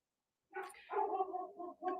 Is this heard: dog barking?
yes